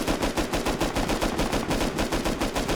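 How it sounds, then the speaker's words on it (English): Rapid automatic gunfire in a video game during a helicopter session, a steady stream of loud shots with no pauses across the whole stretch. "We're getting shot at."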